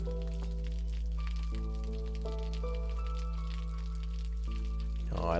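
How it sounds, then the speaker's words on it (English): Steady rain falls into water in a storm-flooded survival city-builder game, a soft constant patter heard alone beneath sustained in-game music tones. "I love how the rain actually falls into the water and how it looks."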